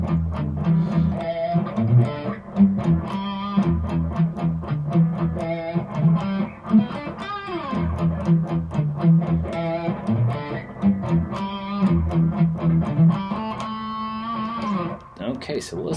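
Distorted electric guitar plays the bridge riff of a song, a close, loud, chugging low-string pattern with rhythmic palm-muted bursts and sustained chords over sixteen seconds.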